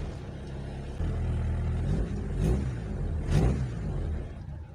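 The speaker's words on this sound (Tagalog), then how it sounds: "i-idle lang natin hanggang sa maabot na yung kanyang ano hanggang sa uminit yung makina" A car engine idles in neutral to warm up after long disuse, a steady low rumble with slight swells in level, close and continuous with no talk.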